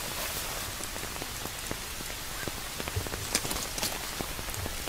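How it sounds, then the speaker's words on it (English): Light drizzle falls in a forest, soft scattered droplets ticking and pattering on nearby surfaces over a faint steady hiss, quiet and close with no voices. "Seizing the opportunity while it's drizzling,"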